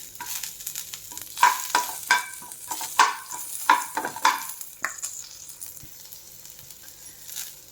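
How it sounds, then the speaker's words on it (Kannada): Onions frying in a pan for a Kerala-style mushroom curry, with a steady close sizzle broken by several sharp stirring scrapes and clinks through the first five seconds, then a softer continuous hiss with no talking. "ಆಮೇಲೆ ಇದಕ್ಕೆ ಇದು ಈರುಳ್ಳಿ ಹಾಕ್ಕೊಳ್ಳಿ."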